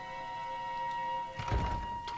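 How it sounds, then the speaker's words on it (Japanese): In the Dragon Quest XI S video game, a door lock clicks open with one soft, dull clunk about midway through, heard over steady sustained background music tones. "扉の鍵が開いたようだ。"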